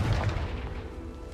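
A Confringo blasting spell goes off in Hogwarts Legacy, a single muffled, low boom that fades quickly.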